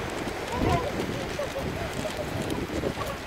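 Strong seaside wind buffets the microphone in a steady, rough rush with gusty swells, while people talk nearby.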